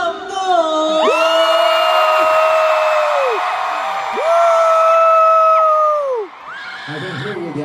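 A large concert crowd cheers and screams loudly and continuously, with long high sustained shouts from many fans that swell and hold for several seconds before dropping away.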